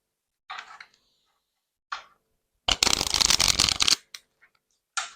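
Petit oracle du tarot cards being handled: a couple of short soft slides, then a dense, loud riffle of shuffling lasting over a second, followed by a few light card flicks, close up with no talk.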